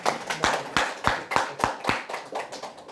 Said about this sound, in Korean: 우리 한번 박수로 한번 환영합시다